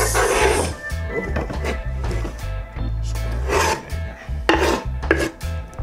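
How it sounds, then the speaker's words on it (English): Onions and other vegetables chopped with a knife on a board, giving a close run of quick rasping cuts and sharp taps in uneven bursts. "So we're gonna cut the veggies now."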